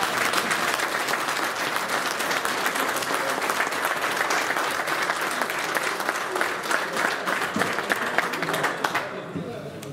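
A crowd at the Ferra 2023 gathering on São Jorge breaks into a big round of applause, loud, dense clapping that holds steady and then thins out near the end, with voices faintly under it.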